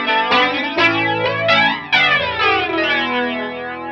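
Aroma Tomsline Twister flanger pedal, an Electric Mistress clone, sweeping over a sustained distorted chord, with repeated swooshing jet-like sweeps growing more aggressive, played loud and alone.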